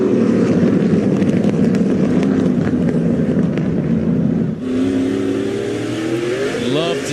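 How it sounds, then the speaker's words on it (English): Stock race cars run side by side on the Lucas Oil Speedway dirt oval during an SRX Series main event, engines roaring loudly and steadily with rising and falling pitch as they pass close by. "Love to see this side-by-side racing."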